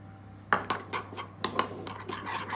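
Spoon knocks and scrapes against a bowl while chopped chocolate is stirred into a warm glycerin mixture, a handful of light clinks in quick, irregular bursts, close and quiet with no speech.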